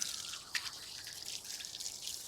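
Water drips faintly outdoors while fountain parts are rinsed, with light, soft splashes and trickles and one slightly sharper drip early on. No one speaks.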